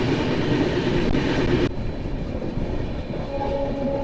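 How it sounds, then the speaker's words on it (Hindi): A train on the main line rushing past at full speed in dense fog, a loud close roar and rattle of wagons that drops off sharply midway into a lighter rolling clatter. "सामने से कोई ट्रेन मेन लाइन से निकल रही है, फुल स्पीड में है।"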